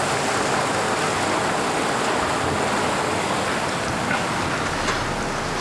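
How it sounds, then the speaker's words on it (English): Water flows below an opening on abandoned grounds, a steady broadband rushing hiss that stays even and continuous throughout. "Oh, Dude, you literally hear water down there."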